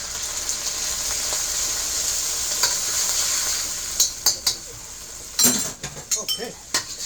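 Sauce hits a hot pan of beef and broccoli stir-fry and sets off a steady, close hiss of sizzling. Toward the end, sharp clinks and scrapes of a utensil stirring the food break through it.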